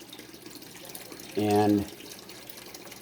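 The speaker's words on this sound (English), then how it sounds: "I have it vacuuming down into this bucket" An aquarium vacuum hose siphons tank water into a bucket, with a short burst of gurgling, pouring water about half a second long amid quiet background and a voice talking.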